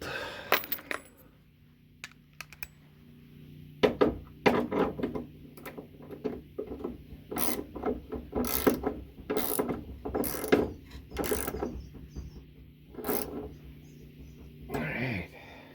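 A wrench tightens a bolt on the rear spring mount of a Ford Pinto drag car, with sharp metallic ratchet clicks and clanks in irregular bursts against a quiet garage background.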